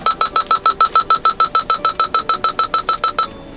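A rapid series of about seventeen identical electronic beeps from a Korean driving-test course signal, evenly spaced and loud, then an abrupt stop into quiet.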